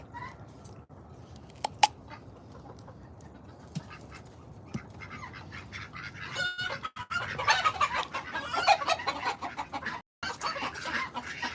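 Chickens cluck outdoors at a homestead, faint and scattered at first, then busier and louder clucking over a low background hum.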